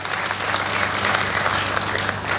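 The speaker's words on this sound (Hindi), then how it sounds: "एक बार जोरदार तालियां जरा इनके सम्मान में आप लोग बजा दें" Loud, steady applause from an audience at a stage program, a thick continuous wash of clapping with no voices over it.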